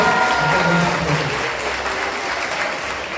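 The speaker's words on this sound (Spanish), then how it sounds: "por eso un aplauso" A crowd applauds at a primary school graduation ceremony. Dense, steady clapping continues throughout, loud and close, gently fading toward the end with no speech heard.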